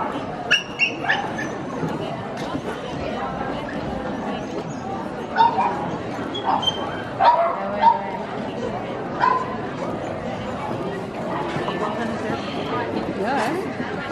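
Dogs at a dog show with open female classes yip, whimper and bark in short scattered bursts amid steady crowd chatter and nearby talking.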